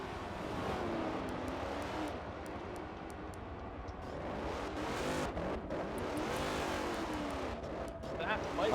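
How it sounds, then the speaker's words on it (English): Damaged race car at Watkins Glen in a racing video game, its engine droning continuously with shifting pitch through the whole stretch, with commentators talking over it. "Oh, you hear it. His car's damaged."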